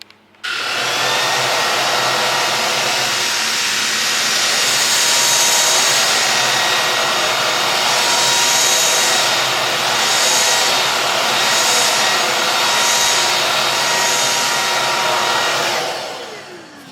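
A loud vacuum cleaner sucking flour off a floor runs continuously with a high whining motor and rushing suction, starting abruptly and winding down at the end.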